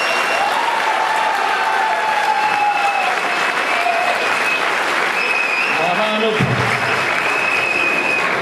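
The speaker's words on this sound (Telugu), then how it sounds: "వినిపించాలి మీ చప్పట్ల సవ్వడి." Audience applause at a medical college golden jubilee cultural celebration, broad and continuous, with a crowd murmur and stray tonal sounds underneath, plus some voices mixed in.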